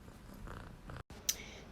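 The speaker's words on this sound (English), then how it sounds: "Sorry, that was my kitty." A pet cat purrs close by, soft and rough, in low rumbling pulses, then gives a brief sharp snort near the end. The sound is fairly faint.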